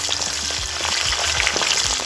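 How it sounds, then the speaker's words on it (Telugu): Ivy gourd (tindora) fries in hot oil, a loud close sizzle with patter-like crackles and brief stirring sounds throughout, no voices. "ఇందులోనే ఈ దొండకాయలు వేసుకొని ఒక పది నిమిషాల పాటు మంచిగా జర దూరగాయేదాకా వేయించుకుందాం"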